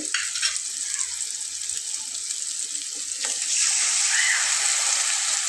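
Water poured into a pan of frying ground cumin and dried red chilli paste for a fish curry gives a continuous hiss and sizzle that swells louder toward the end, close by, with no talking.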